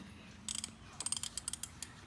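A BMW Z3 oil filter cap being loosened with a ratchet wrench, two short clusters of sharp close clicks with a brief pause between them.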